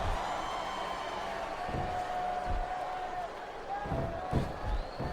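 A capacity arena crowd in SmackDown Vs. Raw 2007 rumbles with a steady murmur and scattered thumps, sitting under a commentator's voice throughout.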